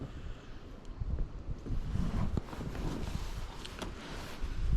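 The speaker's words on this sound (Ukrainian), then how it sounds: "сьогодні вітряно, 11 жовтня" Gusty autumn wind blows across open water during spinning fishing, a rushing, buffeting roar that rises and falls with low rumbles against the microphone.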